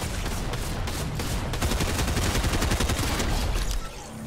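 Rapid bursts of gunfire in Fortnite, a dense, loud volley of overlapping shots that rattles on for several seconds before tapering off at the end.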